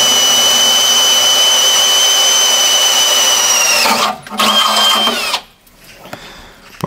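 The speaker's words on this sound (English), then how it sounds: "This is my hole puncher." A power hole-cutting tool bores through material for an EV charger installation, a loud steady whine that holds for about four seconds, then stutters, briefly resumes and winds down.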